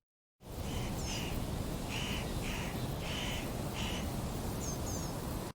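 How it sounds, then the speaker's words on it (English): A crow caws about half a dozen times at a distance, over a steady rushing background noise. "here's the first one, which is that bird crowing in the background"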